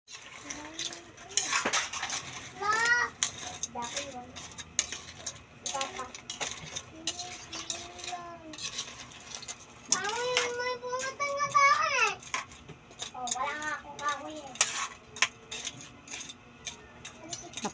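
Spoon scraping and clinking in a cooking pot as a seasoned crab dish is stirred, light intermittent knocks and rattles under ongoing talk and a voice.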